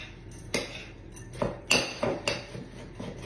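Butterscotch lush crust being stirred with melted butter in a mixing bowl, a string of close utensil clinks and scrapes against the bowl, sharper knocks bunched near the middle, with no talking.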